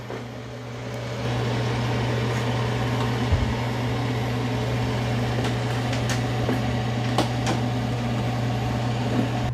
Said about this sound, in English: Okay, here's this one emptying the duct. It is a little bit louder.